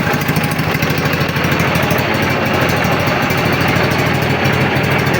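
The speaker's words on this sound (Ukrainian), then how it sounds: "працює на холостому" A Prykarpatets mini tractor engine idles steadily, a loud, close, even mechanical chug with rattling vibration and no pauses, no speech over it.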